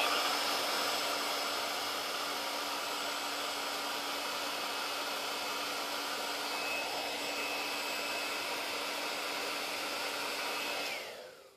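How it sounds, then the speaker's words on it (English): A hairdryer drying a pearlescent clear glaze on a concrete urn, a steady loud broadband blowing hum with a constant motor whine, running continuously for about eleven seconds before switching off at the end. "And I'm going to hit this with a hairdryer."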